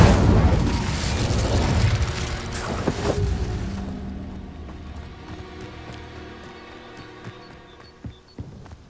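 The Incendio fire spell cast in Hogwarts Legacy bursts loud and close with a roaring whoosh, then fades over several seconds into quieter mechanical clinks and a few faint pops.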